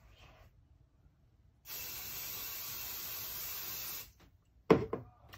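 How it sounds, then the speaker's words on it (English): Temporary adhesive sprayed from an aerosol can onto black vinyl for an embroidered ear headband, one steady hissing burst of about two and a half seconds, fairly close, followed by a couple of short knocks. "I'm gonna spray this with the temporary adhesive as well."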